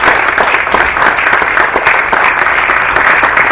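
Loud round of applause from the audience at a neighborhood candidates forum, dense and continuous clapping heard close and full throughout.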